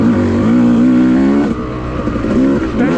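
A dirt bike engine revving on a forest cycle trail, loud and close, rising in pitch, briefly dropping, then climbing again as the rider works the throttle through a corner.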